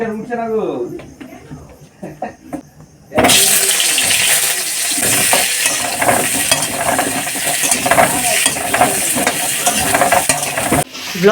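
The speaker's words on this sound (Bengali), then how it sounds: "আলু ভাজা হচ্ছে মাংসের আলু ভাজা ফ্রাই" Loud, steady sizzling of potatoes frying in hot oil, starting abruptly after a few seconds of quieter clatter and voices, with occasional stirring.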